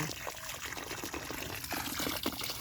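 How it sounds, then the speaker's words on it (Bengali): Water from a 12-volt solar-powered pump splashing and trickling, a faint continuous pouring sound with small irregular spatters, heard close outdoors. "পানি উঠতেছে।"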